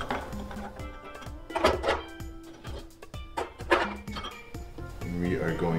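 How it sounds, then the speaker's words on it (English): Ice cubes clatter and clink into a metal cocktail shaker while a piña colada–style drink is being made, a few bright rattling bursts amid kitchen handling noise and talk. "We are going to add the ice."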